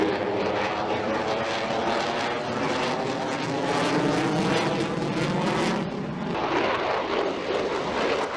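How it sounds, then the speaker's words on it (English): An F-22 Raptor stealth fighter jet with twin Pratt & Whitney F-119 augmented turbofan engines roars loud and continuous, a broad rushing engine blast that swells slightly mid-way with no voices. "Powered by dual Pratt & Whitney F-119 augmented turbofan engines"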